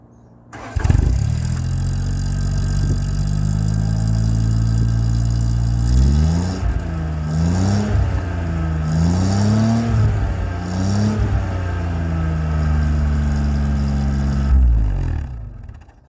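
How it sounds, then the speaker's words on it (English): A 1989 Daihatsu Charade engine cranks and starts, idles steadily, then revs up and down several times before settling back to idle, heard close from behind at the exhaust. "I'll start it from the rear of the car so you can see what the exhaust sounds"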